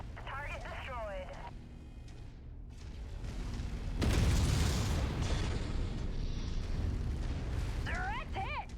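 A hit mech exploding in the MechWarrior 5 video game: a deep, loud, rumbling blast that swells and roars on for several seconds amid ongoing battle noise, with electronic radio chirps before and after.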